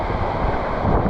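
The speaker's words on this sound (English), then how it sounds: "The water is gushing, it's so powerful." A loud, steady roar of a gushing waterfall fills the clip, dense and unbroken, with a touch of wind buffeting the microphone. Recorded in Coorg, Karnataka.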